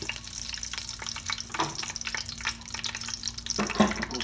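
Garam masala sizzling and frying in melting Dalda in a pan, a continuous crackling hiss with occasional stirring scrapes.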